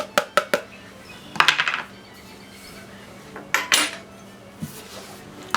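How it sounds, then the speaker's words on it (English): Feta cheese crumbled into a bowl for spinach pie, with a few sharp clinks of a utensil against the dish, then a soft tumble and later clinks, close and clear in a quiet kitchen. "I'm going to add feta cheese, 2 4-ounce packages of feta cheese."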